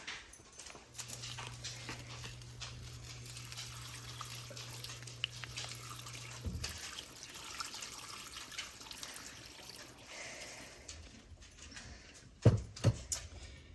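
Water pours steadily into a pot of albondigas soup with vegetables for several seconds, then stops, followed by quieter kitchen clatter and a few knocks.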